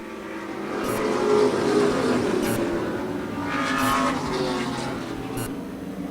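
Vintage 1979 Ford Pinto race cars in a senior tour auto race circle the track, engines droning steadily with swells as cars pass, a continuous moderately loud roar without talk.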